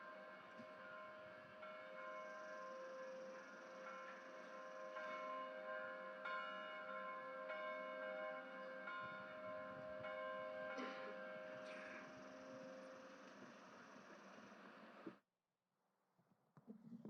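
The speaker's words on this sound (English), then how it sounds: "we have a tradition of tolling the bell at commencement" A bell tolls at a college commencement ceremony, its ringing tones sustained and layered for about fifteen seconds before cutting off abruptly into near silence.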